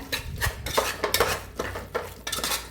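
Ingredients for prawn rice being mixed in a pot, a spoon scraping and clinking against the metal in repeated strokes, close and fairly loud, with no talking.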